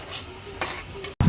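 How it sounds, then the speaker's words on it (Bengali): Liver (kaleji) bubbling and spattering in a pan, soft crackling with a few sharper pops and a utensil clink near the end, close and moderately loud. "ফুটতেছে, শব্দ শুনুন।"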